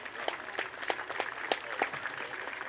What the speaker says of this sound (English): Go ahead and give them a good round of applause.